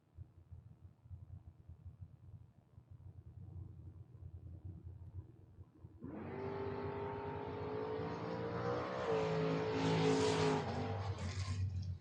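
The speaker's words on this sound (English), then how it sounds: "Lee Zane playing with the throttle" At a 2022 FRBR Door Wars drag race, a car's engine idles with a low, lumpy rumble, then bursts into loud, raspy throttle revs that swell and fall in blips through the second half.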